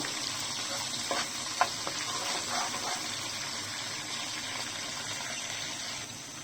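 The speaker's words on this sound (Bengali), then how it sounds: "এখন দিয়ে দিচ্ছি পেঁয়াজ কুচি পেঁয়াজ কুচিটাকেও একটু হালকা ভেজে নেব" Chopped onion frying lightly in a pan for cauliflower khichuri, a steady soft sizzle with a few brief clicks of stirring, no voices.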